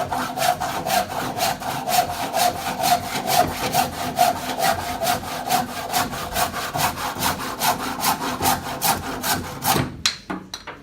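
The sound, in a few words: hand saw cutting wood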